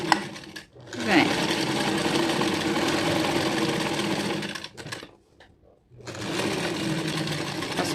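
A sewing machine backstitches a child's dress with elastic shirring across the back, running in a steady close whir for several seconds, stopping briefly with a few clicks, then starting up again.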